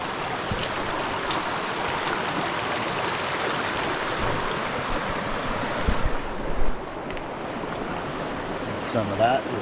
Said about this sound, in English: A little creek coming out right here.